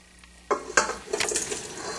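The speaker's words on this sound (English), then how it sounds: "we're going to dump this whole thing into a big bowl" Bison bake ingredients dumped from a pan into a big bowl, two sharp clanks of cookware followed by a soft scraping, sliding pour, close and alone.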